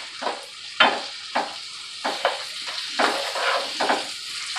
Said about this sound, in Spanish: Bueno, ya agregué mis papas al sartén,